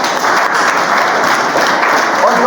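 Steady, dense applause from an audience at a motivational speech, a continuous loud wash of clapping that holds evenly for the whole stretch without pause.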